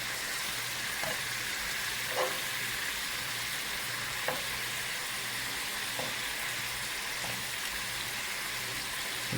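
Pork pieces stir-frying in a hot pan for a sweet and spicy Thai-style dish, giving a steady dense sizzle throughout with a few soft stirring clicks and scrapes, no talking.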